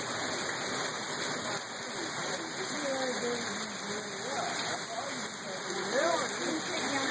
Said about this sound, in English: right now it's hailing outside